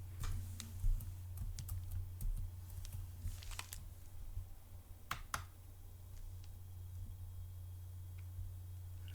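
A password is typed on a computer keyboard as quiet, close key clicks in an uneven rhythm over a steady low hum.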